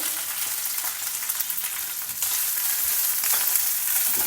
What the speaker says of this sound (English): Saute it till the ginger pieces are well fried